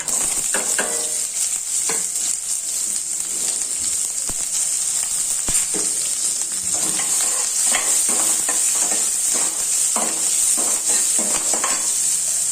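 Large and small onions with curry leaves fry in oil for an eggplant gothsu, a bright steady sizzle running throughout, broken by repeated spoon scrapes and stirring knocks close by.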